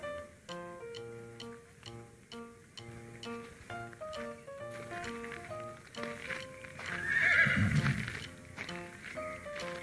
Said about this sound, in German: Da kommen bestimmt jetzt die anderen Pferde.